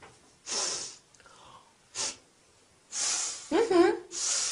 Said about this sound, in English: You sniff.